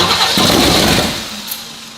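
A 1970 twin-turbo big-block jet boat engine, long abandoned and rusty, cranks and catches briefly, a loud rough burst of engine noise that fades and drops away within about two seconds.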